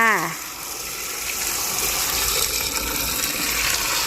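Running water gushes steadily from a tap as fresh ripe red chillies are washed, a continuous close splashing rush after a brief rising tone at the start.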